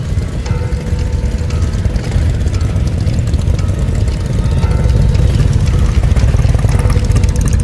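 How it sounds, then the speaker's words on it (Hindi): A motorcycle engine rumbles low and steady near a village edge on a cold day, a continuous close drone that grows slightly louder toward the end as it arrives. "मोटरसाइकिल की आवाज आई।"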